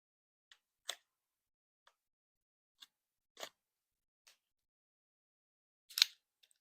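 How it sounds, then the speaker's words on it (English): A playing card deck's seal is cracked open with a card opener, giving several faint, sharp clicks and snaps spaced irregularly in near silence, with no talking. "And we'll just crack that seal."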